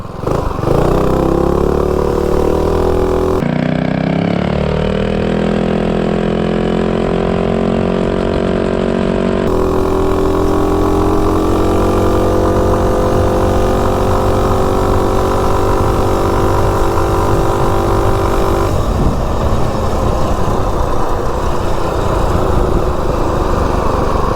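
Coleman B200 minibike engine running with added power, a loud, continuous buzzing drone close by that shifts pitch as the revs change, with no speech over it.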